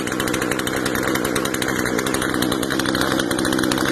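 A Poulan 3314 chainsaw engine idles steadily after its carburetor's low-speed screw is adjusted, a loud, close, even rattling drone with no voices.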